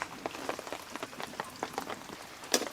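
Small shallots, about twenty-five, finely chopped and dropped into hot oil for a meatless fish-style curry, crackle and sizzle in the pan with a steady patter of tiny pops and a sharper burst near the end, moderately close with no talk.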